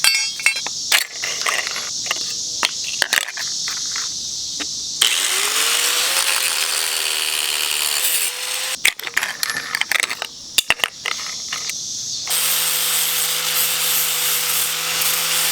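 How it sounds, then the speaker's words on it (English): A power grinder works down welds on a turbo Honda Civic, with long, loud, steady grinding stretches broken by scraping, knocking and handling noise between passes. "I just grinded down Caleb's welds."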